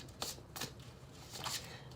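Oracle cards are shuffled by hand, giving three or four brisk papery riffles in a row, close and fairly soft, with no talk.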